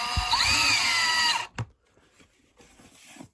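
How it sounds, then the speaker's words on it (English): Drill driving a screw to fasten a new control switch on an electric recliner, a steady whir with rising pitch for about a second and a half, then a clunk and quiet handling sounds, up close. "Now all I'm gonna do is put the two screws in place here."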